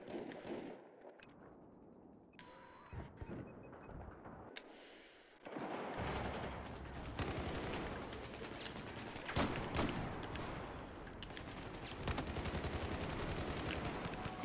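Rapid automatic gunfire from a rifle in Battlefield 4, dense loud bursts after a quieter stretch of game ambience, continuing steadily for several seconds with brief gaps.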